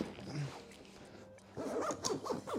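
Zipper being pulled closed on an OruCase B2-MTB bike travel bag, short quiet rasping zips, with a faint dog bark or voice-like sounds in the background.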